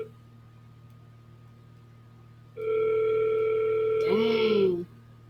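A telephone ringback tone purrs steadily through a call placed from a CRM system while waiting for voicemail to answer, a single long ring cutting in after a quiet stretch and ending with a brief wavering tone.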